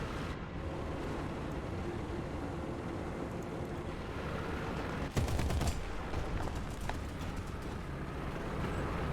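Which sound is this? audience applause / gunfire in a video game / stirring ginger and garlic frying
gunfire in a video game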